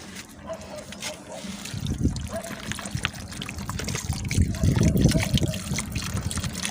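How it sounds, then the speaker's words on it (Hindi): Half a litre of water poured into a pot of chicken and black chana gravy, a steady trickling and splashing that builds louder toward the end, with background noise throughout. "तो बस मैं आधा लीटर पानी डाल दूँगी इसके अंदर।"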